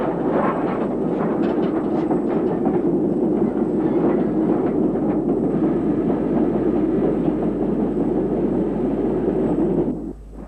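An LMS Hughes 2-6-0 'Crab' steam locomotive of 1926 runs steadily and loudly close by, a continuous rumbling chuff with rail clatter that holds for about ten seconds before easing off at the end.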